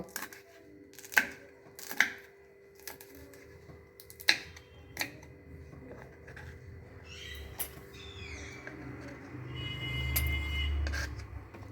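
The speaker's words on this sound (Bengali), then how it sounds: "কাঁচা লঙ্কাটাকে ভালো করে একদম ছোট ছোট করে কেটে নেব" Green chilli being chopped finely with a knife on a board, a handful of sharp, irregular taps spread out over several seconds, with faint bird-like chirps and a low hum in the background.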